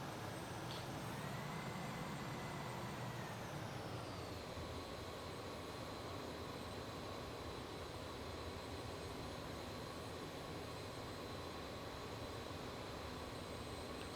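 Avro RJ100 jet taxiing to its stand at London City in Microsoft Flight Simulator 2024, heard from outside: a steady, loud whine of jet engines with a hiss on top, which shifts down in pitch early on and then holds level, with no talk.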